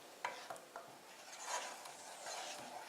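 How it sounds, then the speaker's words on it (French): A homemade tapioca starch hair gel mixture is stirred in a container, giving soft, quiet scraping and light tapping strokes at an irregular pace, with no other sounds. "Faut bien mélanger."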